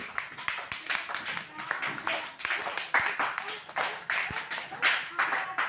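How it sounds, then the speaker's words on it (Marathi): A group of children clap in quick, uneven bursts, with voices chattering over the clapping throughout. "Clap for Gauri."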